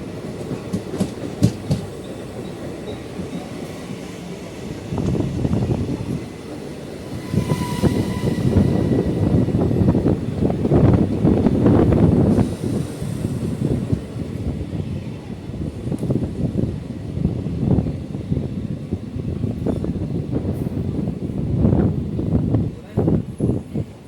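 The Virar–Valsad Passenger, a Mumbai local train, rumbles along with a continuous, loud rolling roar and rhythmic clatter of the carriages, swelling midway, while voices talk over it.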